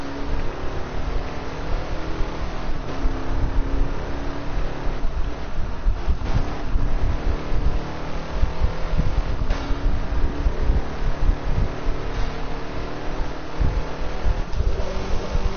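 A steady, droning car engine hum in the video game Burnout Paradise runs without pause, rough and noisy, with a whooshing wind-like layer over it and no voices.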